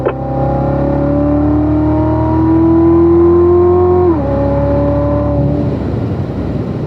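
A car on a race track pulled hard at full throttle through the gears, the engine note climbing steadily and loud, then a brief dip at a shift before the revs continue, no voices.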